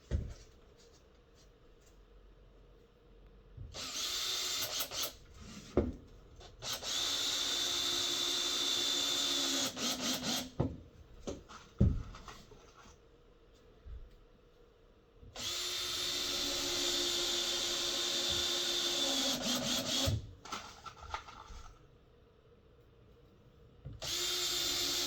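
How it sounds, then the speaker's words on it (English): A drill driver whines in long bursts as it drives screws down into a Sprinter van's floor around the perimeter, loud and close, with brief clicks and pauses between runs. "I love using my drill drivers for screwing"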